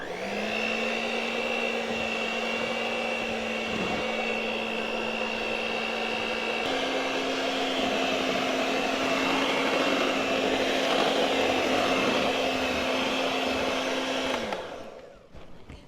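An electric mixer beats pumpkin bread batter with a steady whirring motor hum. Partway through, the pitch shifts slightly higher, and the motor winds down abruptly near the end.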